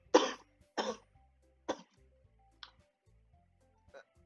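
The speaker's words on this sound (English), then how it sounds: "Every time he coughs, I'm just gonna skip." A person coughs five times in a row, the first coughs loud and close, later ones weaker and more spaced out, over quiet background with faint ticking.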